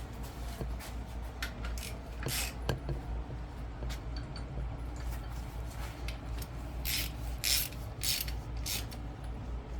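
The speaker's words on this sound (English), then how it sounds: "If you're not super used to using a ratchet, kind of feeling a bolt stretch and not breaking it" A ratchet tightening bolts on a 6.0 Power Stroke diesel engine during a teardown, heard as soft, irregular clicks and rubbing that swell into brighter ratcheting bursts near the end, faint under a steady background hum.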